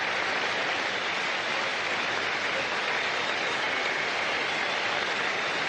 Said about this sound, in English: Very generous round of applause from this good-sized crowd